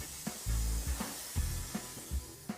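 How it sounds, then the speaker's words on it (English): Adhesive sprays from an aerosol can along the edge of a floor ahead of vinyl flooring installation, several short hissing bursts with a low thump at each press, close and quiet. "spray the adhesive along the edge of the floor, taking care not to spray it onto the walls"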